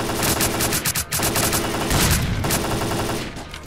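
Rapid automatic weapon fire in S.T.A.L.K.E.R. Clear Sky, loud, sustained bursts of shots with short gaps, fairly close, pausing briefly before resuming and trailing off toward the end.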